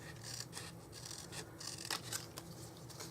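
Scissors snip through the end of a paper strip for an accordion-fold butterfly with a few short crisp cuts and rustling, close and fairly quiet.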